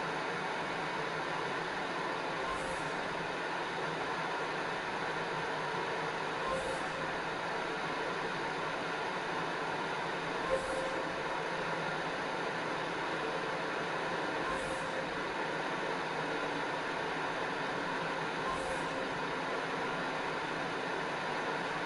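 A PlayStation 4 console gives off a steady, faint whirring hiss under a quiet room, unbroken for over twenty seconds with only slight soft ticks along the way.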